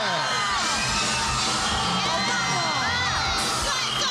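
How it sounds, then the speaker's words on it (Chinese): A studio audience at a Taiwanese variety show cheers, whoops and claps in a loud, continuous burst of crowd noise with shouting voices mixed in. "哇塞，掌声鼓励！"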